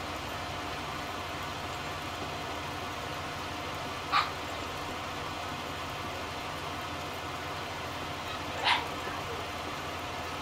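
A dog in the farming video game Farming Simulator 19 gives two short, separate barks a few seconds apart over a steady idling engine hum.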